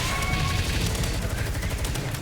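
Gunfire in a Palworld raid rattles off in rapid bursts, a dense crackling volley close and fairly loud throughout, with no voices.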